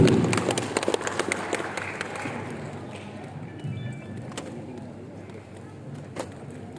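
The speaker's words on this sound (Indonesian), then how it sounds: "Tepuk tangan yang meriah Bapak Ibu" An audience of village heads at a gathering applauds, a burst of clapping that starts strong and quickly tapers into scattered claps amid room noise and murmuring.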